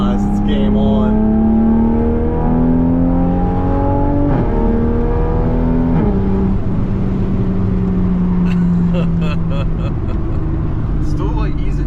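Toyota Supra MK5 with a big-turbo B58 engine accelerating hard, its throaty exhaust rising and falling through several gear changes, loud and close throughout, with people talking over it.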